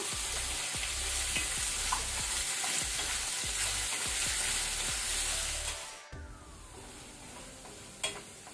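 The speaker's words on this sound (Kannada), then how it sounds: "ಮೀಡಿಯಂ ಫ್ಲೇಮಲ್ಲಿ ಸ್ವಲ್ಪ ಕಲರ್ ಚೇಂಜ್ ಆಗೋ ತನಕ ಎಣ್ಣೆಯಲ್ಲಿ ಫ್ರೈ ಮಾಡ್ಕೊಳ್ಳುವ" Skin-on potatoes frying in oil over a medium flame give a steady, close sizzle with repeated stirring scrapes, until the frying drops away near the end and a single clink follows.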